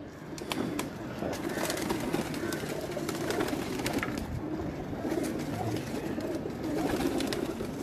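A champion pigeon sits on a rooftop among other pigeons, with soft cooing over a steady wash of outdoor noise and scattered sharp clicks.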